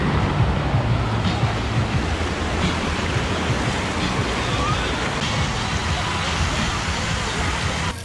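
A wave pool at a water park aboard the Royal Caribbean cruise ship Navigator of the Seas churns with a continuous broad rush of water, loud and unbroken throughout, with faint crowd noise mixed in.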